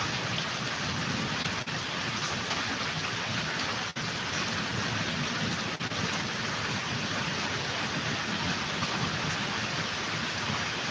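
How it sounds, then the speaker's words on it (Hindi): Heavy monsoon rain pours down in Mumbai, a dense, unbroken hiss of rain on surfaces, loud and steady throughout, with no talking. "मुंबई में बहुत ज़्यादा बारिश हो रही है"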